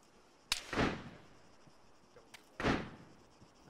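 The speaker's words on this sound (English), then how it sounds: "There's someone shooting." Two sharp gunshot cracks with rolling echoes ring out about two seconds apart, moderately distant, in a military video game.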